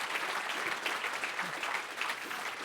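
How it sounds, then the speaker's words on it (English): A banquet crowd at a charity gala dinner applauds steadily, a dense wash of clapping hands at moderate distance that holds at an even level throughout the short burst. "how about you guys clap again"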